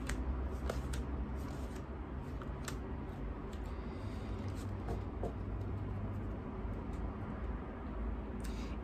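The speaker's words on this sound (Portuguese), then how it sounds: "Eu vou tirar mais duas cartas para finalizar esse jogo." Tarot cards are handled and drawn from a deck, soft papery shuffling and flicks repeating faintly throughout against quiet room tone.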